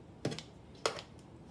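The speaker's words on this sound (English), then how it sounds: "So I'm gonna take my little trusty scissors and just kind of cut it up just a little bit." Kitchen scissors snip through cooked chicken enchilada meat in two quick, close clicks, crisp and alone against quiet room noise.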